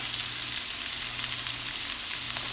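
Onion and spring onion white parts sauté in a pan with garlic, giving a steady, even sizzle with light stirring, fairly close and with no talking.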